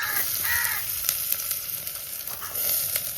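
Onion sizzles and crackles in hot oil in a pan, a steady close frying hiss with small pops and occasional stirring scrapes throughout.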